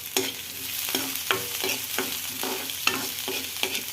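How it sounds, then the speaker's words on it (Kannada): Onion frying in oil with cinnamon, bay leaf and cumin in a pan, a steady sizzle broken by repeated scraping stirs at an even rhythm, close and fairly loud with no talking. "ಮತ್ತು ದಪ್ಪ ಈರುಳ್ಳಿ ಒಂದು ಹಾಕ್ಕೊಳ್ಳೋಣ"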